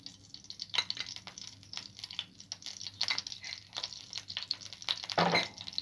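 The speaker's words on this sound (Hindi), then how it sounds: "और देसी घी में हम ये घसी हुई गाजर जो है वो ऐड कर देंगे अपनी।" Grated carrot going into hot desi ghee for carrot halwa gives a crackly, patter-like sizzle with scattered bursts and stirring scrapes, close up and steady, with no voices.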